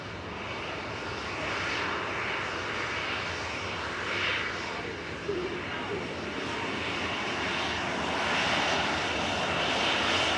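A nine-year-old SunExpress Boeing 737-800 departs Manchester Airport bound for Dalaman, its jet engines giving a steady, broad roar that stays strong and swells slightly toward the end, with no talking.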